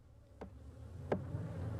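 Africanized killer bees buzz after their hive is struck, a faint low drone with a couple of brief close fly-by passes.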